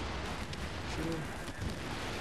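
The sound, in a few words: gunfire in the video game The Division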